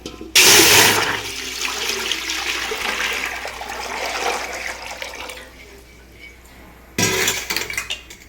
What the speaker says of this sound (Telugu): దానికి కావాల్సిన వాటర్ పోద్దాము